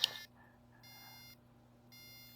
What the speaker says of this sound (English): This buzzer will dynamically adjust to the new note that you have